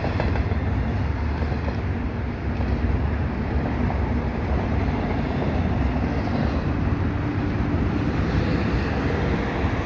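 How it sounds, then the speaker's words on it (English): A CPKC double-stack freight train rolls past a St John's Blvd overpass in winter, its locomotive giving a steady, loud low rumble with constant broadband roar and some wind noise, no speech. "Second locomotive."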